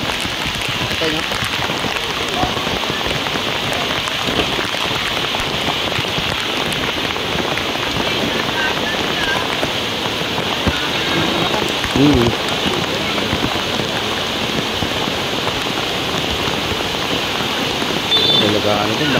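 Heavy rain pours steadily over a flooded river area in Montalban during a typhoon, a dense continuous hiss of drops on surfaces, with people talking over it.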